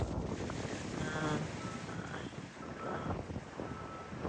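Strong wind buffets the microphone aboard a boat at sea, a loud continuous roar with water and waves faintly beneath it and no talk.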